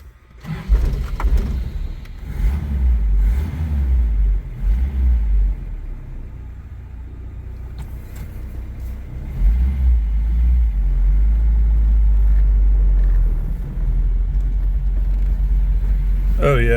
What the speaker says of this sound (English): let's go ahead and take it for a ride around the yard